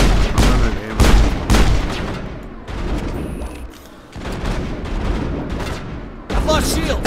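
Mass Effect combat on PC with rapid, dense weapon fire: repeated loud bursts and booming impacts pound almost continuously, briefly thinning out midway before picking up again, close and intense.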